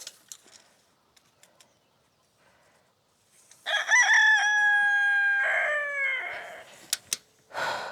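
A rooster lets out one loud, close cock-a-doodle-doo after a few quiet seconds of faint scattered clucks and small knocks, and brief clucking chickens follow.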